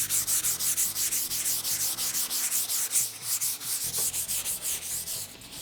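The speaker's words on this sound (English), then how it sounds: "So 220 paper, and you want to sand it down lightly." An Ikea desk surface being sanded lightly by hand with 220 grit sandpaper, a close, rhythmic back-and-forth rasp of quick even strokes that continues throughout.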